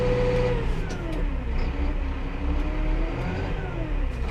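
A Massey Ferguson 5711 M Dyna-4 tractor engine held at a steady 1800 rpm, a loud, continuous drone with a rising harmonic whine, heard close and alone with no talk.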